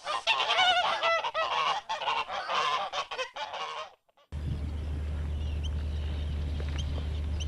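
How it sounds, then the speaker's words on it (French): A colony of wild geese in Svalbard honks loudly and raucously in overlapping calls, then the calling stops and a steady low rumble of wind or engine takes over. "filmer cette colonie d'oies sauvages"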